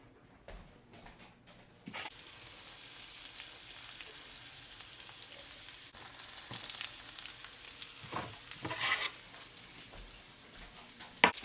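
Food hitting a hot pan greased with beef tallow, starting with a few soft knocks before a steady sizzle rises and grows, with crackles and stirring clinks toward the end.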